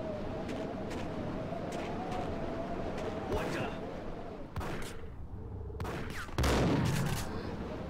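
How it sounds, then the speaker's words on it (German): Gunfire in the PC video game Max Payne: a series of sharp shots and bursts, including a louder blast near the end, ringing out over background game sound and talking. "manchmal reicht ein Schuss auf weiter Entfernung, manchmal reicht nicht mal ein Schuss von nahen aus"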